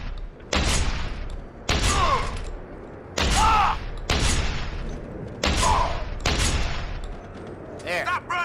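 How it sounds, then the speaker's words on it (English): Repeated concussion grenade blasts in the video game Deus Ex: Human Revolution, six loud booming explosions about a second apart, each with a rumbling tail, with a short clattering burst at the end. "Have a concussion grenade. Have another."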